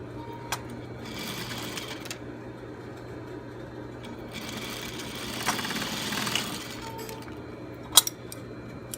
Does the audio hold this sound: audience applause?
no